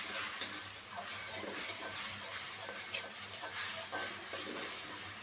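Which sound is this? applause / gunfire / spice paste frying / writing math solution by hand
spice paste frying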